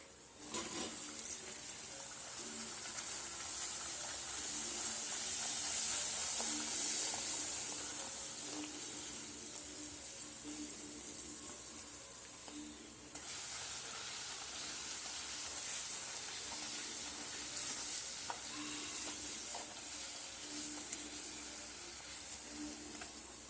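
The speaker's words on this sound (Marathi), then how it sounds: "अशा प्रकारे आपल्याला ह्या पुऱ्या भाजून घ्यायच्या आहेत" Spinach puris fry in a pan with a steady, moderately loud sizzle and hiss that holds for the whole stretch, dipping slightly partway through, with faint background hum and no talking.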